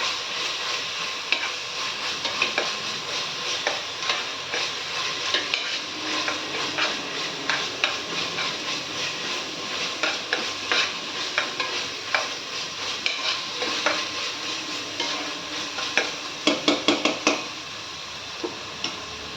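Chicken curry frying in a pan with ginger, a constant soft sizzle broken by repeated scraping and clinking of a spoon stirring, quiet and close, with a quick flurry of clatters near the end.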